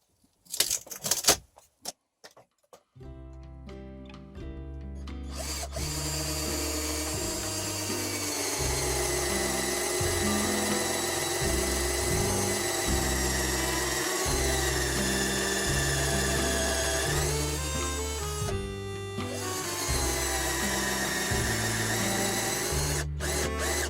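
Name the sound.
power drill drilling through wooden shelf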